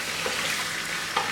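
Chicken frying with masala in a pan gives a soft, continuous sizzle with light stirring scrapes, fairly quiet and with no voices.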